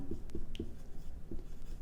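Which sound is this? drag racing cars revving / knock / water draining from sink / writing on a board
writing on a board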